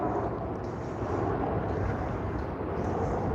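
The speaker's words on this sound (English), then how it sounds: "you'll see and hear a lot of airlines jet traffic going overhead" Jet airliners on the Sky Harbor Airport flight path, passing near a stadium: a steady, broad roar overhead that holds constant throughout, with no talk.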